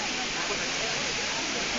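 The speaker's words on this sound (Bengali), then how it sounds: "কি সুন্দর একটা ঝর্ণার আওয়াজ, তাই না?" A waterfall roars as a dense, steady wash of rushing water that fills the whole short stretch without any break. Loud and continuous, heard up close at the falls.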